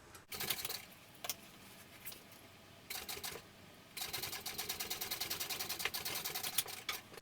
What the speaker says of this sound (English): we're going to top stitch along our gusset piece